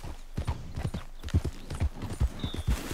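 A horse's hooves clip-clop at a steady walking pace on a trail in Red Dead Redemption 2, close and fairly loud, with a soft snort or whinny mixed in.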